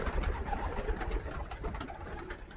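Pigeons in a loft housing many racing birds give a steady mix of low, muffled coos and soft rustling, a continuous close chorus with no talk.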